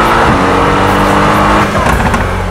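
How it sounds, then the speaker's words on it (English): A Mercedes-AMG GTR in the racing game Assetto Corsa, accelerating hard with a loud, continuous engine roar that climbs steadily, close and dense throughout. "Brutally fast acceleration, and that's what the GTR delivers over the GTS."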